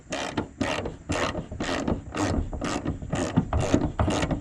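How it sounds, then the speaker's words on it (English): A ratchet loosening a rear hood nut on a Mustang GT, heard close up as a steady run of about nine rhythmic clicking strokes, each burst of pawl clicks followed by a short pause, with no talk. "we will loosen the rear hood nut"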